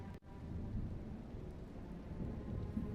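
Steady rain pelts down in a dense, even wash, with a low rumble of thunder rolling underneath throughout and no voices.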